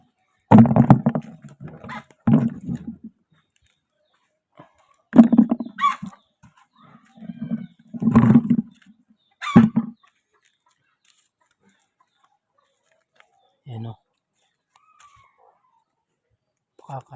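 Chickens cluck in short, scattered bursts with quiet gaps between, some calls close and loud, others fainter.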